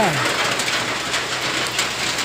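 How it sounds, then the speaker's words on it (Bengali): Heavy rain pours down in a loud, continuous roar, steady and close, with no break. "আমাদের এখানে বৃষ্টি হচ্ছে, খুব পরিমাণ বৃষ্টি"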